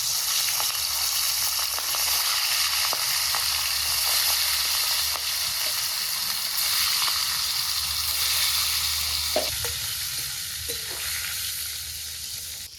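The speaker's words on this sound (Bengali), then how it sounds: "মাছগুলো হালকাভাবেই ভাজবো আগে চাকার পিসগুলোই দেবো" Tail pieces of boal fish fry in hot oil in a kadai, giving a loud, dense, unbroken sizzle close by, with a few soft clicks of movement near the end and no talk.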